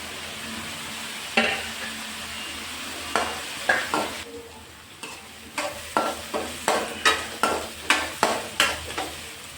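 Chopped garlic frying in a pan with curry leaves and onion gives a soft sizzle under a string of stirring scrapes and spoon taps, sparse at first and then coming in a quick, regular rhythm toward the end.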